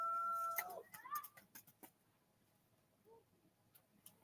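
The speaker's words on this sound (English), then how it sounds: "now the kids are hollering for the damn rooster to hush" A rooster clucks a few times in short, fairly faint bursts, with a brief loud tone and some quiet background voices near the start.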